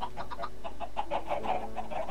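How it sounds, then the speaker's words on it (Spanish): Chickens in a coop in the Minecraft video game cluck in quick, repeated bursts, moderately loud over a steady low hum. "Las gallinas están atrapadas ahí."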